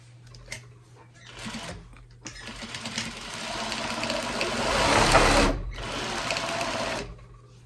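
Sewing machine running in bursts while back stitching a handmade gift, a short start, then a long steady stretch that grows louder before stopping and a final run, close and alone without talk.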